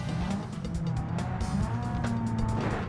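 Race car engine in a racing video game, a steady loud drone whose pitch shifts with repeated gear changes, continuous throughout.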